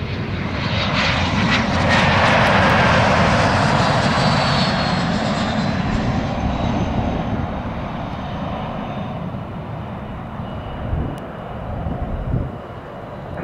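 A business jet landing on runway 21 at Scottsdale Airport roars loudly and close, the engine noise fading gradually as it rolls out.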